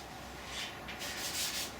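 Light rubbing of a wood turning with 1000-grit abrasive, a soft steady hiss that swells and fades in gentle strokes, faint and close, with no voices.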